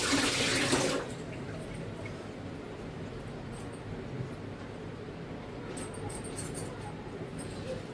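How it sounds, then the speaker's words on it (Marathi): Water is poured off soaked brinjals in a home kitchen, a brief loud splashing rush lasting about a second, followed by quiet with faint clinks and drips. "आता याचं पाणी काढू"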